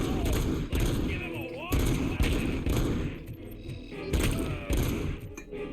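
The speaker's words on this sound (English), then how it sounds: "Oh, that's a turret." Automatic turret fire in the RoboCop: Rogue City video game, loud bursts of rapid gunshots repeating through the scene with thuds and mechanical clatter mixed in.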